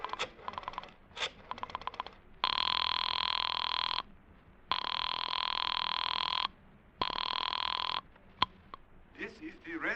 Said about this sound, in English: I dug through the telephone book and I found Dr. Matson B. Forsyth's number and I dialed it.